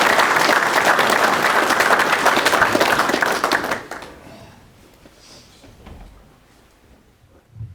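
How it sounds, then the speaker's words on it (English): Audience applause for a guest speaker named Tim, a loud, full burst of crowd clapping lasting about four seconds before cutting off into quiet room noise and faint shuffling. "Let's give Tim a big round of applause."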